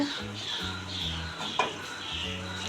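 Melting sugar syrup is stirred in a pan over medium-low gas for jibhe goja, a soft bubbling with spoon scrapes beneath a low background hum.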